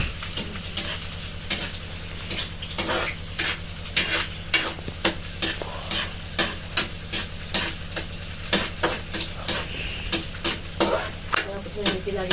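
Garlic and onion sauté in a pan for ginisang ampalaya, with a steady sizzle and a continuous low hum underneath. A spatula scrapes and clacks against the pan in repeated, fairly regular strokes.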